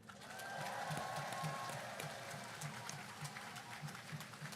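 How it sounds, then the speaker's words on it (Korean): Steady applause from a crowd at a political campaign rally in Yangsan, South Korea, a dense wash of clapping that holds at an even level throughout. "그들에게 박수 한번 보내주십시오"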